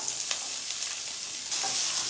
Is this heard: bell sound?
no